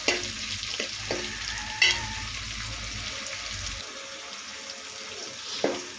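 Sizzling from a pan as onions and vegetables fry in sesame oil while being stirred, a steady hiss with a few scraping knocks; no one speaks.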